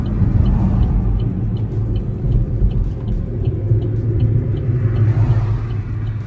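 Worn rear brake pads and shot rotors on a Dodge Dart give a continuous low grinding rumble while the car rolls. The sound is loud and steady throughout, with faint higher ticks above it and no voices.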